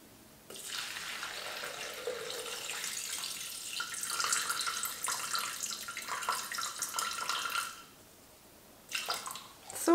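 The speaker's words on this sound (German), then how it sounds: "Nun kommt Wasser dazu und zwar brauchen wir 400 Gramm." Water, 400 grams, poured into the mixing bowl of a Thermomix TM6 kitchen machine while making muesli, a steady close hiss and splash for several seconds that stops abruptly, followed by a brief final trickle.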